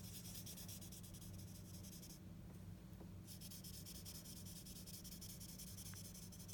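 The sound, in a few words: blending stump lightly rubbing graphite on paper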